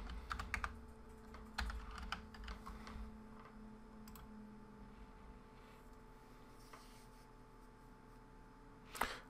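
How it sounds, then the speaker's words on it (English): A password tapped out on a computer keyboard: bursts of quick, quiet key clicks at first, then a near-silent pause and one final sharper keystroke, with no talking. "Now what I'll do is I'll enter the password that we gave for that user."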